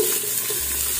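Onion frying in hot cooking oil, a brief continuous close sizzle with a faint watery hiss and no voices.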